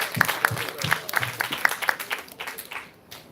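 Scattered applause from attendees after a professor's presentation at a climate resilience workshop, with individual claps distinct at first and then thinning out and fading toward the end.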